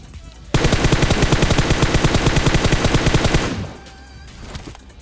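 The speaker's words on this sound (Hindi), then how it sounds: "तब मैं उस पर फायर करता हूँ, M24 का हेडशॉट देता हूँ।" Rapid sustained gunfire in the PUBG Mobile battle royale game, a loud fast burst of shots lasting about three seconds, then fading into quieter game ambience.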